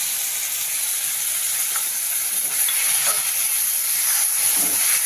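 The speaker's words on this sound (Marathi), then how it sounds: "आता आपण दही टाकून देऊया त्यामध्ये" Curd poured into hot spiced oil in a pan with peppers, producing a loud continuous sizzling hiss that holds steady close up, with faint crackles and no talk.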